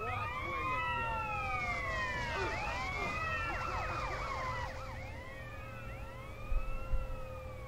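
Police car sirens wail in the video game GTA San Andreas, several overlapping sweeping tones rising and falling continuously at moderate loudness, with a brief burst of louder noise near the end.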